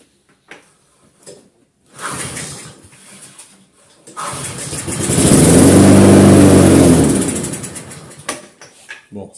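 A lawn mower salvaged from the dump, its carburettor clogged or dead and fed petrol straight into the carb, is cranked with a couple of short sputters, then fires and runs loudly up close for a few seconds before dying away.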